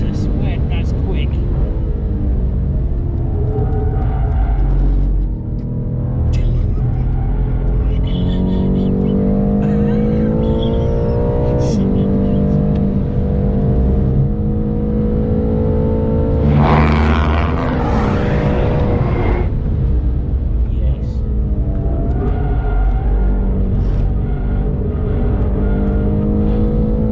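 BMW M8 driven fast around the Silverstone GP circuit, a loud sustained engine roar with rising and falling revs and gear changes throughout, heard from inside the car under excited speech.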